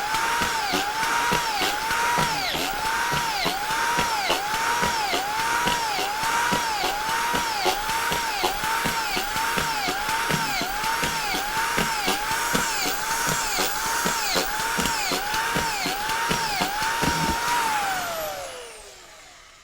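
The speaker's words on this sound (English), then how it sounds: "So I'll just show you how fast this is, all right? So I just pull the trigger down." A Simpson Strong-Tie PRO300SD25K collated screwdriver drives screw after screw into a floor, its motor whining in a fast, regular rising-and-falling cycle for about seventeen seconds before spinning down, loud and close with no talking.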